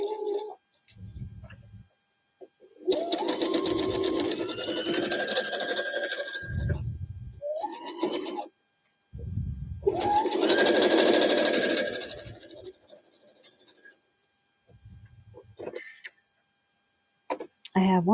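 A sewing machine stitches a quilt in short, rapid mechanical runs that start and stop, with someone talking in the gaps and over the stitching.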